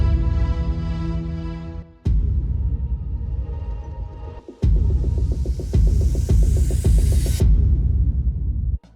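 An EDM build for the ARC Raiders game launch trailer plays a repeated punchy kick drum with a tonal pad. An uplifter rises steadily into a bright noise sweep, and the riser cuts off abruptly at the end.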